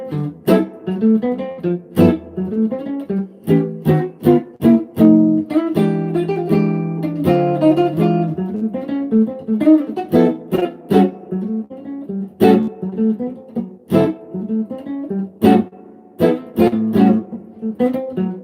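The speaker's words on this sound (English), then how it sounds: "Basically a blues using block chords." A solo guitar plays a blues in A with block chords, in crisp plucked chord hits and short runs with clear gaps between phrases, close and moderately loud.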